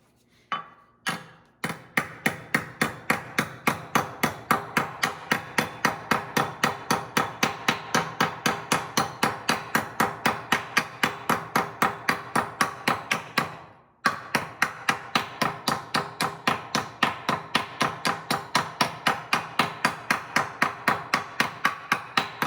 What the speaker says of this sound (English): I'm gonna go ahead and hammer on this stump for a while